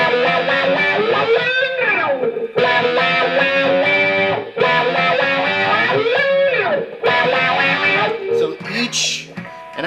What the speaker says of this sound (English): Let's see what it sounds like with distortion and the wah pedal